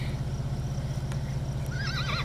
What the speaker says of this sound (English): it's kind of cool to see wild horses as you can out here.